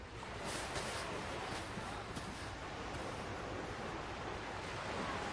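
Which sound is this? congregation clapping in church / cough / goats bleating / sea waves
sea waves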